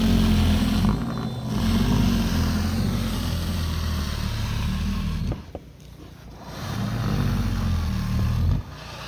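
A Toro 60V battery power shovel throwing snow, a loud steady motor whine and churn that drops out twice briefly before resuming, heard close and alone.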